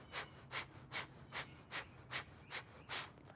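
Slow, steady breathing during a yoga exercise, about eight soft, even breaths in a regular rhythm, close and fairly quiet, with no talk.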